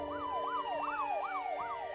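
A wailing ambulance siren sweeps up and down in a steady, repeating cycle, loud and close, with no voices over it.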